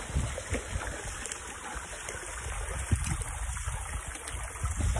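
Rainwater runs from a newly installed gutter and falls into a backyard pond, making a steady trickling, splashing wash with a few louder splashes, moderately close and continuous.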